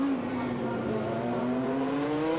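Race car accelerating hard out of the Monza chicane during a 2001 FIA Sportscar Championship race, engine note climbing steadily up through the gears, loud and continuous with a steady rising whine for the full stretch.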